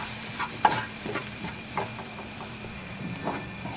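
Maida flour roasting in oil over a low flame, a soft steady sizzle with occasional light scraping and stirring taps of a utensil in the pan.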